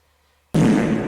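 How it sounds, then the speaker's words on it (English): A fart sound effect: silence, then one sudden, loud, low, buzzing blast that lasts about half a second. "I didn't know y'all like farts."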